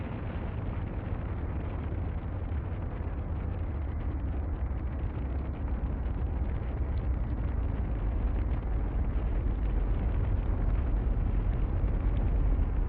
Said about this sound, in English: Fusion propulsion jet engines firing.